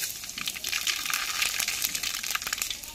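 Dry red chillies, bay leaf and five-spice tempering with black mustard seeds crackle in hot oil, a close, busy sizzle with rapid spitting pops running throughout, fairly quiet and without talk.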